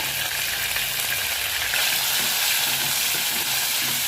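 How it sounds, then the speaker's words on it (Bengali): Chicken fries in hot oil, seasoned with black pepper for a broccoli dish, giving a loud, steady sizzle with a crackling hiss that runs through the whole stretch, close by and with no voices. "চিকেনটাকে আমি দুই তিন মিনিট ধরে একটু এই তেলের উপরে ভেজে নিব"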